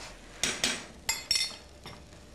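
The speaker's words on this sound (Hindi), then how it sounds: "इसमें जो हमने चावल भिगो के रखे उनको भी भून लेते हैं" Soaked raw rice is stirred and roasted in a pan, giving a few quick scraping clinks of the spoon against metal, close and fairly quiet, with no talking.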